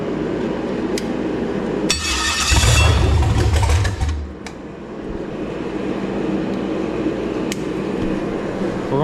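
An engine mounted on an engine stand cranks and catches, its loud rumbling start rising then settling into a steady idle that runs on alone in the open.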